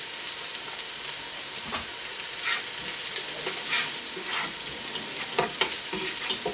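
Onions and oil frying in a pan over a high flame, a steady crackling sizzle with intermittent stirring scrapes, close and moderately loud, with no voices.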